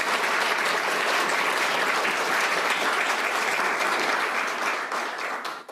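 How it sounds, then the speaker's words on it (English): An audience at an art show award ceremony applauds the filmmakers in dense, sustained clapping from many hands, loud and steady for several seconds before tapering off slightly at the end. "let's applaud our wonderful filmmakers"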